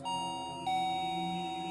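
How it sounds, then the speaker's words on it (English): Doorbell ringing in the horror game Corpse Factory, two clear sustained electronic chime tones in quick succession, bright and ringing, with no talking. "the doorbell rings again"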